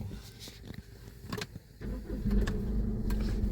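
A 2017 Honda CR-V diesel engine cranks and catches, rising at about the two-second mark into a steady, loud idle rumble after a few quieter clicks and shuffles.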